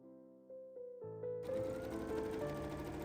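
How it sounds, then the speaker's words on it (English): A sewing machine stitches the shoulder seams joining the front and back bodice pieces of a Mary Poppins Jolly Holiday dress, starting with faint tones and then whirring steadily and loudly up close for a couple of seconds. "I can now sew the front and back pieces together at the shoulder seams."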